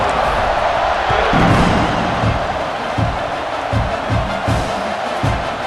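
A stadium crowd at an Oklahoma Sooners college football game roars loudly and steadily as the kickoff approaches, with thumping rhythmic beats and a commentator's voice over the din.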